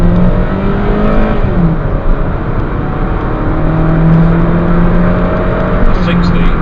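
A 2008 Hyundai Coupe 2.0 accelerates hard from a standstill to 60 on a wet road, its engine note climbing through gear changes with tyre and road noise underneath, loud and close from inside the car.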